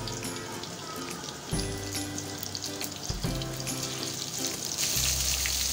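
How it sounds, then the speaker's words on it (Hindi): Batter-coated mutton chops fry in hot oil with a dense, steady sizzle and crackle, and the hiss swells as more pieces go into the pan. "छः से 7 मिनट के लिए मैं इसको गोल्डन ब्राउन होने तक, क्रिस्पी होने तक फ्राई करूंगी"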